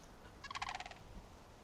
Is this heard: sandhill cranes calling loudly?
yes